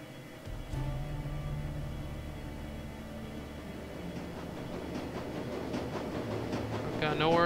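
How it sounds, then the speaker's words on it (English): A subway train in the video game Shadowrun: Dragonfall rolls along its rails with a low rumble and rattle, then gradually slows as a rising metallic wheel screech builds toward the end, with a voice talking over it. "The rattle wheel on track gives way to a shimmying screech. Gradually, the train begins to slow."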